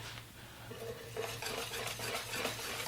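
A whisk beating a Coca-Cola cake mixture in a metal pot, steady scraping clinks repeating close by, with a low hum under it and no talking.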